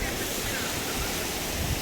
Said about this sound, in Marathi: छान असा धबधबा आहे, तुम्ही बघू शकता.